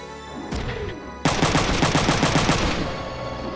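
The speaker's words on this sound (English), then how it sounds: "let's shoot this thing up" Mech gunfire in the Front Mission video game, a rapid burst of about a dozen sharp, loud shots following a single earlier report, with no talk.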